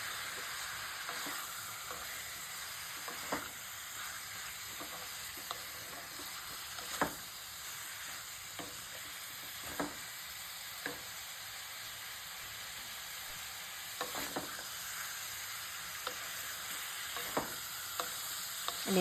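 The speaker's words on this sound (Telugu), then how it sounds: "నేను స్టవ్ని ఫుల్గా పెట్టి అప్పుడప్పుడు చికెన్ని కలుపుకుంటూ ఉన్నాను" Chicken pieces coated in salt and turmeric fry on a stove at full flame, a soft continuous sizzle broken now and then by light scrapes and clinks as the pan is stirred, with no talking.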